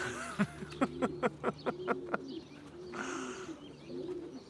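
Racing pigeons coo repeatedly as they land at the loft, a string of soft, regular calls for about two seconds, then a quieter stretch with more faint coos and bird chirps close by.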